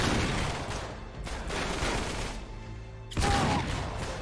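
Shotgun fire in the game Uncharted 3: Drake's Deception, in a London Underground level, with dense bursts of shots and sustained loud gunfire that briefly drops, then surges again near the end.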